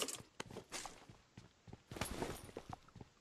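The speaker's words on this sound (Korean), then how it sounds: "앞에 발소리." Footsteps of an enemy player somewhere ahead in PUBG Mobile, heard as a run of short, soft, irregular thuds and scuffs with a faint scrape of gear, fairly quiet and slightly distant.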